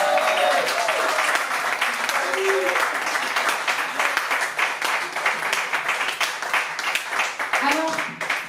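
Concert audience in Nice applauding steadily for several seconds, a dense field of claps with scattered sharper hits and occasional voices cheering through it.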